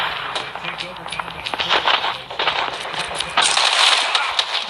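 Gunfire in a first-person shooter video game: bursts of sharp shots and clattering game effects mixed with movement sounds, heard under excited talking from players.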